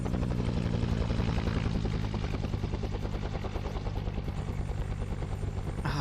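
Helicopter in a Vietnam war video game, a loud continuous rotor thump with dense rhythmic chopping and engine drone, steady and close for the whole stretch, with no speech.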